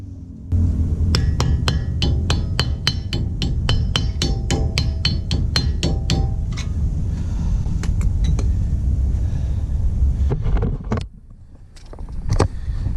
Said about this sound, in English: we have to replace the dust cap, so we're going to hammer that back into place